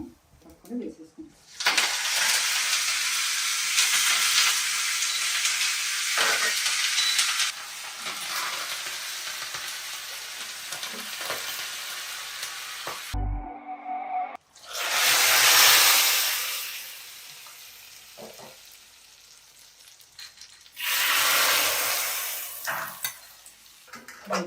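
Whole spices tempering in hot ghee for khatti dal, a loud sustained sizzle and crackle that swells in bursts, with a few clinks of a spoon or pan and a short pause before the frying surges again.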